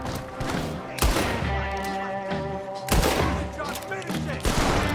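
Gunfire in the Red Dead Redemption 2 video game, with sharp shots at about one, three and four and a half seconds over dense game noise and a musical score.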